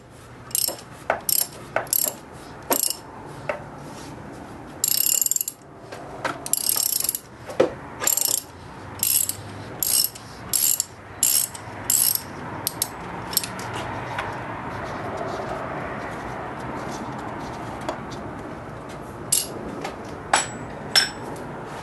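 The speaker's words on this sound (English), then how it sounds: "just put your 36mm socket on there like that, and start loosening it." Ratchet with a 36mm socket loosening the oil filter on a BMW E36, repeated close bursts of sharp ratchet clicks over steady background hum, with a few knocks between strokes.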